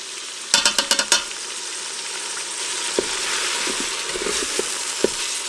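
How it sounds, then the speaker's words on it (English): Ground beef browning in a Ninja Foodi, a steady close sizzle with a quick burst of clicks near the start and a few soft taps and scrapes after. "While that meat is browning"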